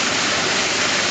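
Greasy water gushes out of a pipe at a septic lift station in a loud, continuous, dense rush of splashing flow.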